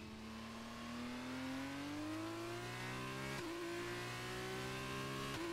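An F2 race car in the video game F1 23 accelerates hard, its engine note climbing steadily and loudly, dropping once at a gear change before rising again, heard alone without talk.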